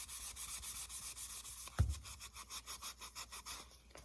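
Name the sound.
scuff pad rubbing the surface of a pod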